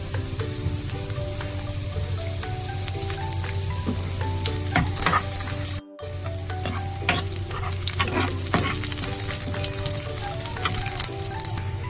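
Curry leaves frying in a beef curry pan with onion, ginger and garlic, a dense crackling sizzle with frequent spoon scrapes and stirring clatter, close and continuous, a steady low hum underneath, nobody talking.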